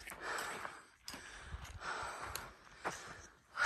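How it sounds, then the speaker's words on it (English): Heavy, rhythmic panting breaths close to the microphone while hiking uphill in the Eastern Sierra, each exhale a rough gust, with faint footsteps between them. "Me panting, trying not to die, walking up this hill."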